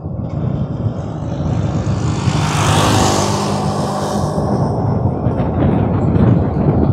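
A Sathi electric bike accelerates in third gear, a rushing swell of wind and road noise building up loud and close, with a faint motor whine underneath.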